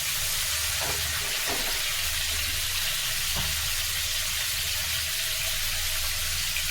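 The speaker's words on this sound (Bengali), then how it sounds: "এবার আমি মাছ দিয়ে দেবো ভাজতে।" Fish frying in hot oil in a home kitchen, a loud continuous sizzle with a few brief crackling bursts, heard alone without talk.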